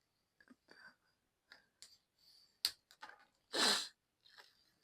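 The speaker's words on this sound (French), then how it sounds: "Et j'ai éternué, je suis désolée." A single loud, close sneeze bursts out amid quiet rustling and soft clicks of paper and scrapbooking supplies being handled.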